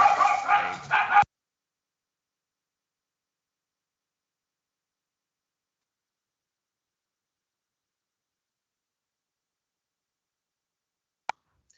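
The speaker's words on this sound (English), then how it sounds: "my dogs were losing their minds there" Dogs at home bark and yelp in a short, loud burst at the very start, then silence follows apart from a faint click near the end.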